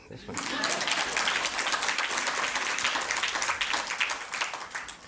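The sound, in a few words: audience clapping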